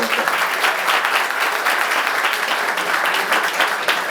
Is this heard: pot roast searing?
no